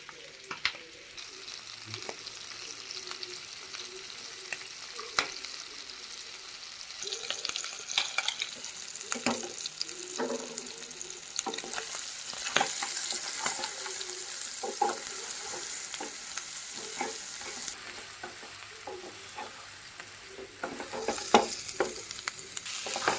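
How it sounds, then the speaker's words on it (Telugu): Chicken pieces for Andhra-style chicken vepudu fry in hot oil with green chilli paste, giving a steady close sizzle broken by repeated scraping stirs of a spoon in the pan, with no talking. "ఇప్పుడు చికెన్ కూడా ఒక 10 నిమిషాల పాటు ఆయిల్లో బాగా ఉడికించుకున్నాను."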